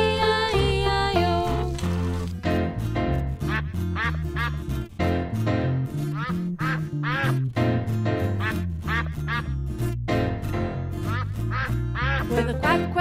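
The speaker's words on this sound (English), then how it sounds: "With a quack quack here and a quack quack there" A children's nursery song about a farm duck plays, with busy music and rapid repeated quack-like sounds running throughout, loud and continuous.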